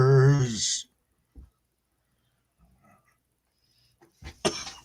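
A man gives a short cough after a burst of talk, followed by quiet breaths and small clicks, then another harsh cough-like burst near the end, close to the mic.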